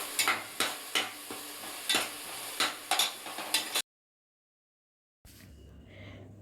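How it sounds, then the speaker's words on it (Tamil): Onion, garlic and ginger paste is sautéed in a pan, with a ladle stirring in repeated scraping strokes over a soft sizzle, then a pause in silence before a quieter sizzle resumes. "சேர்த்துட்டு வெங்காயம், பூண்டு, இஞ்சி இதோட பச்சை வாசனை போகிற வரைக்கும் நல்லா வதக்கிக்கலாம்."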